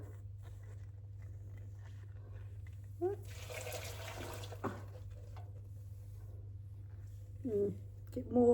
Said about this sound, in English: gonna get more boiled water